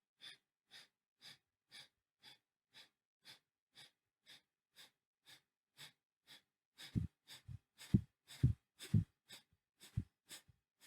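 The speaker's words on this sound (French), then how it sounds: "on continue avec la respiration du feu" Breath of fire during a Kundalini yoga session: quick, even nasal exhalations in a steady rhythm, soft at first, then turning louder and more forceful, close and alone.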